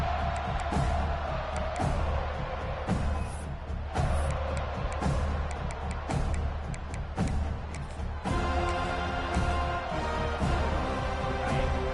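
A stadium crowd roars and cheers throughout at a college football game between top-ranked FSU and the Canes, loud and sustained with swelling peaks and no clear speech over it.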